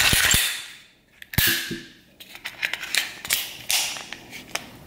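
The slide of a Glock 42 pistol in .380 is worked by hand, giving a few sharp, close metallic clacks and clicks with scraping handling noise in between, without talk.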